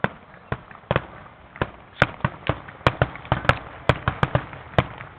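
Fireworks finale at a 2017 show in Olathe, Kansas, with a rapid, uneven string of sharp booming explosions and crackling pops, loud and fairly close, no talking.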